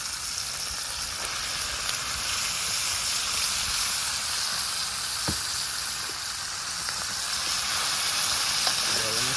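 Ackee sizzles and fries steadily in a pot over an outdoor fire, with a constant hiss and occasional scraping stirs, close and continuous throughout.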